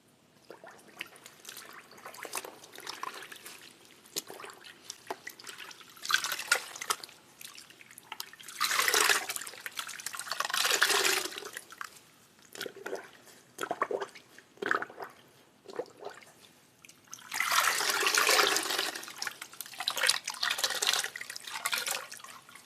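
Sheep's wool fleece is rinsed in cold water, with soft sloshing, dripping and splashing that comes in several louder bursts and quieter gaps, close by and with no talking.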